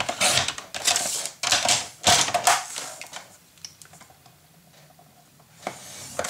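A leftover piece of craft material is cut, heard as a run of close, crisp snipping and rasping strokes in quick bursts, then a quieter stretch with faint scraping before a few more sharp snips.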